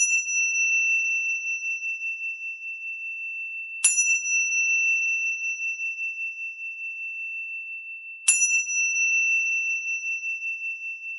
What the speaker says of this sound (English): The beginning and the end of holding each asana will be indicated by the ding of the bell.